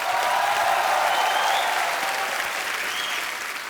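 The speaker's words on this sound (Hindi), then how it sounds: "अक्षय पाजी के लिए जोरदार तालियां हो जाए एक बार।" Studio audience at a comedy talk show claps loudly for actor Akshay Kumar, a thick, sustained wash of applause from a large crowd that stays strong before easing off slightly toward the end.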